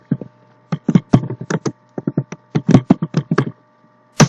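Fast bursts of key presses on a computer keyboard while installing Django with pip, crisp close clicks in irregular clusters separated by short pauses, with no one talking.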